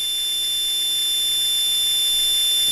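Brushless RC motor spinning at about 21,000 RPM, giving a steady, loud high-pitched whine with no change in tone over the couple of seconds.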